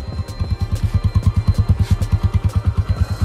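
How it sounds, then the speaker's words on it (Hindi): An Apache RTR motorcycle with a newly fitted battery idles after starting, its single-cylinder engine thumping in a steady, fast pulsing rhythm, close and fairly loud with no talk. "ये बाइक है अभी देखो इसका, इसको मैं स्टार्ट करके दिखाता हूँ।"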